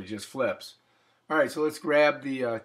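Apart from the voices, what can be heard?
No everyday noise stands out behind the speech.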